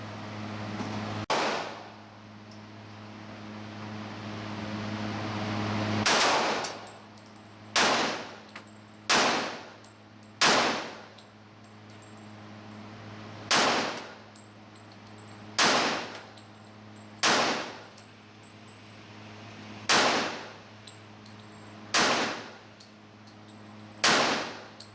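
Glock 21 handgun fired at steel targets on a range, about ten loud sharp shots spaced roughly two seconds apart, each with a ringing decay.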